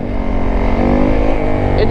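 A Yamaha YZ450F dirt bike engine revs steadily and loudly up close, a continuous buzzing drone that holds for about two seconds with a slight rise in pitch near the end.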